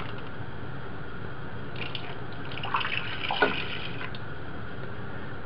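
Water poured into a pork asado marinade in a pot, a soft close trickle and splash that builds briefly in the middle and then fades over a steady background.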